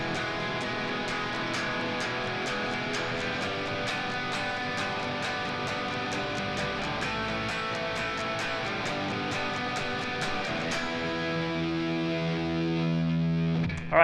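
A distorted electric guitar plays a song's pre-chorus, a loud driving eighth-note strummed chord pattern that holds on a ringing chord near the end.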